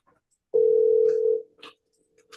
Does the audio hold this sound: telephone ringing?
yes